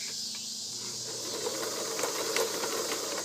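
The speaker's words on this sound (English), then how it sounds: "Now we've got a straight stitch." A Kenmore free arm multi-stitch sewing machine, model 158.1941, runs a straight stitch in a steady, continuous mechanical whir with a light rattle, heard close up and alone for a few seconds.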